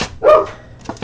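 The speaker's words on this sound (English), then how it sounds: "You can hear my dogs outside." A single sharp dog bark rings out outdoors, followed by a couple of fainter, shorter yips a moment later.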